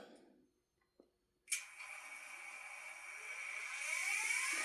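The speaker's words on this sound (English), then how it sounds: "There's the horn." After a couple of faint clicks, the electronic horn of an N scale EMD Tunnel Motor model locomotive in Southern Pacific livery sounds as one sustained, quiet, slightly buzzy blast that swells a little toward the end.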